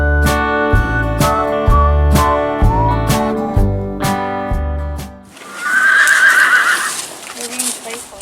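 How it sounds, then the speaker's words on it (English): A young horse on a farm gives a short whinny after a stretch of loud music fades, with the neigh heard over outdoor background noise. "Why don't you give us a hee-hee-hee?"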